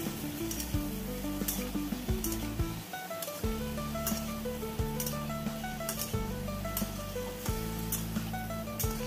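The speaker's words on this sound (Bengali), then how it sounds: "হলুদ গুঁড়োটা দিয়েও খুব ভালো করে কষিয়ে নিতে হবে" Ridge gourd and potatoes sautéed with turmeric powder in a pan, a constant crackling sizzle with regular rhythmic spatula knocks and scrapes, close and alone.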